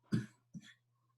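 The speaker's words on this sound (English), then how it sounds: "I'm gonna cough." An adult coughs twice in a quiet room, two short, close, muffled bursts in quick succession over a faint steady electrical hum.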